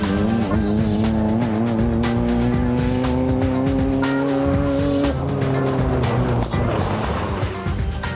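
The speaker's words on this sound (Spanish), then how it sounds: "en esta carrera campo a través participan anualmente más de 200 coches procedentes de todo Estados Unidos" Volkswagen Baja Bugs roar through an off-road race, a loud continuous engine drone with rising revs and a sharp gear shift near the middle, dense and unbroken throughout with no talk.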